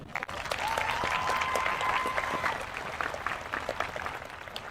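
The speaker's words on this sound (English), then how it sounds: "give them a round of applause" A graduation ceremony audience claps steadily for the junior escorts, a dense, even applause that holds for several seconds at moderate level, with a faint sustained tone running through the middle.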